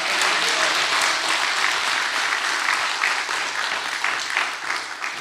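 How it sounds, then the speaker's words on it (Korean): A church lecture audience applauds, many hands clapping in a sustained, even wash that stays loud and full before easing slightly toward the end. "하나님께 감사하여 영광의 박수 올려드리면 좋겠습니다"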